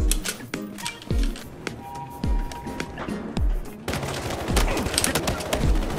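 Rapid bursts of gunfire from a Battlefield Hardline multiplayer match, sharp repeated shots in uneven volleys, loud and close, with faint game noise between bursts.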